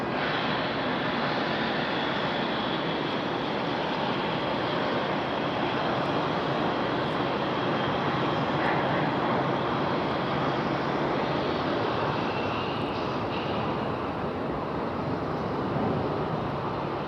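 Copa and Aeromexico airliners arriving back to back at Raleigh-Durham airport, a steady, broad jet engine roar rumbling continuously throughout, fairly distant and smooth, with faint wind and no talk.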